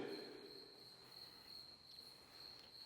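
Steady high-pitched cricket chirping, continuous and faint, against a quiet background with no talking.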